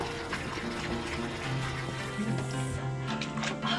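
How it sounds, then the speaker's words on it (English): Liquid mead pouring into a chalice indoors in a Camelot-themed room, a steady close trickling splash lasting a few seconds with tonal background hum, no talking. "I'm just going to pour my 21st century mead into my 21st century chalice."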